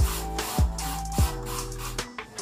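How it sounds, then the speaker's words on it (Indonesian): A hand sprayer mists water into a plastic container used to incubate leopard gecko eggs, giving several short, close pumping spritzes in an uneven rhythm. "wadah si ingkub ini kita semprot dulu"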